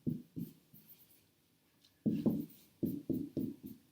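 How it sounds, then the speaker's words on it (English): Pen or marker writing out a math calculation on a surface, short scratchy strokes in bursts with pauses, close and fairly quiet with no talking. "I'll write that out."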